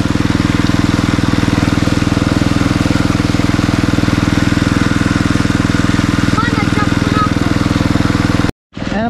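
A water pump engine runs steadily beside a spring-fed well, its loud close drone with a low mechanical chug continuing for about eight seconds before cutting out briefly near the end.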